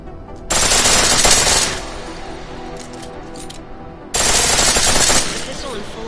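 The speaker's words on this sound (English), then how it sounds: "The pistol in full auto will take down targets fast, but it'll burn through your ammo." A pistol fires in full-auto bursts in the video game Deus Ex: two loud, dense rapid-fire volleys of about a second each, separated by a brief lull.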